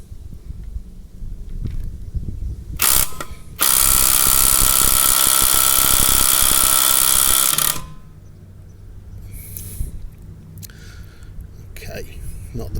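A Bosch GDX18V-EC hybrid impact driver loosens a bolt in one loud, steady burst of rapid hammering that lasts about four seconds, framed by quieter handling noise before and after.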